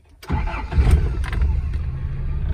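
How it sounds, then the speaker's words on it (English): A Toyota pickup with a 22RE engine cranks briefly and catches, settling into a loud, steady idle close by with no talk over it. "So we're going to crank the truck up"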